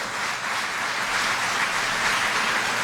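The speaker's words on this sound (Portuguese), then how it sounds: "Aplauda-se" A church congregation applauding at an online worship service, a dense, steady wash of clapping at an even level throughout, with no voices standing out.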